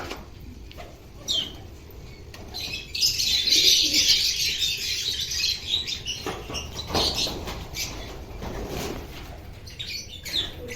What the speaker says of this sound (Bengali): বাকি পায়রাগুলো কিরকম দুষ্টুমি করছে।